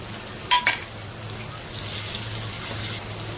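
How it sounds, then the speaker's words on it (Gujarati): Onions and curry leaves fry in a pan for Gujarati dal pakwan, a soft steady sizzle with a couple of brief sharp clinks near the start, close and fairly quiet, with no talking. "લીમડાના પાન નાખી દેવાના કાંદા બરાબર ફ્રાય કરી લેવાના છે"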